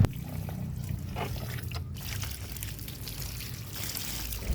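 Water taken from a home aquarium poured onto soil in a plant pot, a steady close splashing trickle lasting a few seconds with a short break in the middle.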